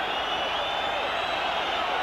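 A football crowd of just over 13,000 at Wrexham v Arsenal, an FA Cup third-round match in 1992, whistles for the final whistle, forming a dense, steady wall of shrill whistling and roar with no break.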